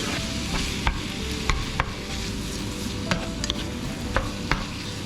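Ground beef and mushrooms are stirred in a frying pan, a steady close sizzle broken by scattered scraping clicks of the spoon against the pan, with no talk.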